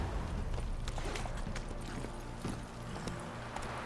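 Horse hooves clip-clop at a steady trot in The Witcher 3, a repeated thudding beat that is fairly muffled and sits under a dense wash of game background noise.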